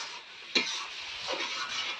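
Snail and vegetable curry cooking in a pan, with a soft continuous sizzle, a sharp utensil scrape against the pan near the start and a second stirring scrape later, close and fairly quiet.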